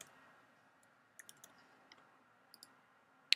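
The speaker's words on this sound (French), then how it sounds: "Je clique sur le suivant" A computer mouse clicking while setting up poll options in Zoom: a handful of faint, sharp clicks, some in quick pairs, over a quiet room, ending with a louder click; no talking.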